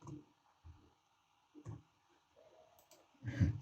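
A computer keyboard being typed on quietly: a few soft, sparse keystroke clicks with gaps between them, the last one slightly louder.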